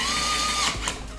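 A MINI ES121 smart electric screwdriver drives small screws out of a compact electronic device, giving a faint whirring motor whine that stops partway, followed by light clicking.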